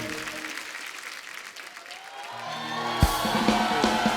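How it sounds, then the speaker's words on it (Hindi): A studio audience at a comedy show applauds loudly after a singer's performance, clapping swelling midway with cheers and whoops, and then music strikes up under the crowd. "जोरदार ताली।"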